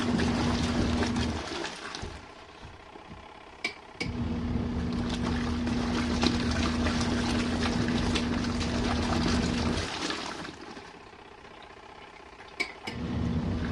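An RV washing machine running its main wash cycle, water sloshing and draining with a steady pump-like hum that cuts out briefly twice, with occasional clicks and knocks.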